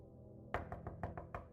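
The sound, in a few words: knock at a door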